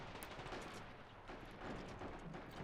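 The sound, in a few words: distant gunshots in Men of War Assault Squad 2 video game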